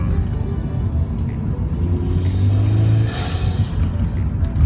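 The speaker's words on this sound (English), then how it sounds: "I'll demonstrate it from a 3rd gear pull, flooring it, and it's already just at peak boost." A turbocharged car with a VF40 turbo and an Invidia up pipe pulls hard at full throttle in third gear near peak boost, a loud steady engine roar rising in pitch with a whistling turbo tone over a continuous rumble.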